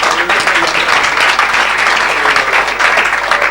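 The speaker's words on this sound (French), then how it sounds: "Acclamons le Seigneur" A congregation at a French-speaking evangelical church service applauds the Lord with sustained, dense clapping that stays loud and steady throughout, a crowd of many hands with no pause.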